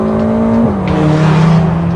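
A Ferrari California T HS with stability control off drives fast, its engine droning loudly and close, the tone holding steady then dropping slightly as the car pulls on.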